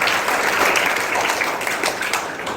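Loud, continuous applause from an audience of students at a school student camp, dense clapping that stays steady throughout and fades only slightly toward the end.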